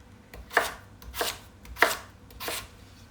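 Carrots being cut on a board for a beef stew, four crisp, evenly spaced knife chops close up and moderately quiet, with no talking.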